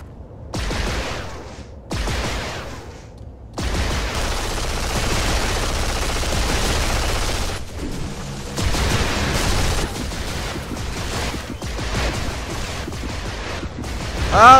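A gun fires in the video game Duke Nukem Forever during multiplayer play, a dense run of rapid shots with brief gaps, loud and up close.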